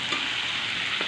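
Potatoes sizzling in hot oil in a pan while being lightly stirred, a steady close frying hiss running throughout the short moment, with a faint scrape near the end.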